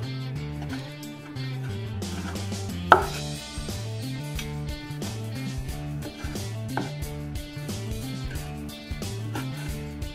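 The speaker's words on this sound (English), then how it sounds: "We're just hacking this up into small" A knife chops beef into small bits for a Gallina Pinta stew with a steady run of blade knocks on a cutting board, with one sharper hit, all set against continuous background music.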